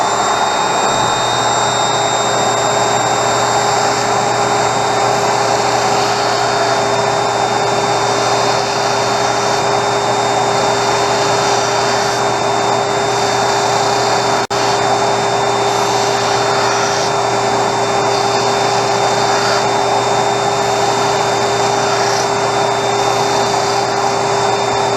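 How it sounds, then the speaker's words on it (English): A shop vacuum cleaner picking up sawdust runs steadily and loudly throughout, a constant high-pitched whine over a droning motor hum, with no pauses. "I'm going to turn on the vacuum so it doesn't fly all over the place"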